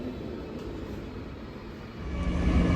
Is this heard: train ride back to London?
yes